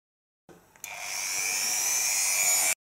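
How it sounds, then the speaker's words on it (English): A Dremel rotary tool powered from a 220 V powerbank built from 18650 cells switches on after a brief click and settles into a steady, loud high-pitched whine that holds alone for about two seconds. "Let's try to turn on the same Dremel."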